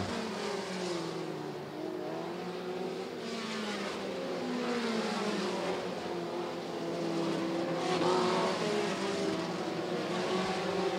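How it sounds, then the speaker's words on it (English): Race cars roar around a track in the final laps of a short-track race, a steady, dense engine drone that rises and falls slightly as the pack circulates at a distance, with no talk. "Flying green out this time around for Kyle Fell. There's 2 to go, your race leader."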